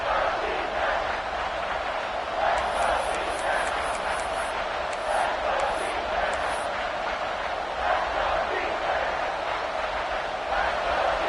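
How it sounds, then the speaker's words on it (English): A large stadium crowd roars steadily throughout, with a rapid series of high electronic beeps partway through. "the crowd really making some noise now, trying to help out this defense"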